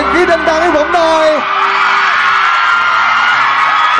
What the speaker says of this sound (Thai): ขอเสียงกรี๊ดดังๆให้ผมหน่อย